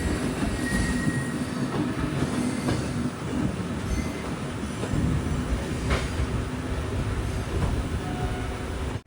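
A local train in Mumbai rolling past, a steady rumbling rush with wheel squeal and rhythmic rail clatter, fairly loud and continuous, with no voices.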